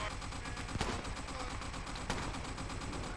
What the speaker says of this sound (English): They're bombing the hill. They're bombing the hill.